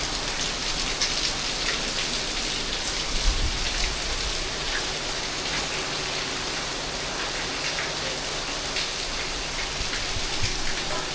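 Heavy rain pours in Corfu, a dense steady hiss of drops hitting surfaces with running water, loud and unbroken for the whole stretch, with no voices.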